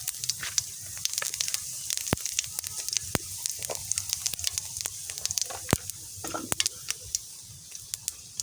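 Bay leaves and whole cumin seeds sizzle in hot oil, giving a steady close hiss broken by frequent sharp pops and crackles throughout, with no talking.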